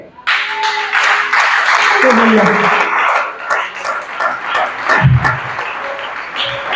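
A church congregation bursts into loud, sustained applause mixed with cheering and shouts of acclaim, then the clapping gradually thins into scattered claps as voices carry on over it.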